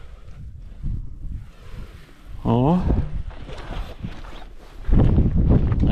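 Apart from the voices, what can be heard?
wind blowing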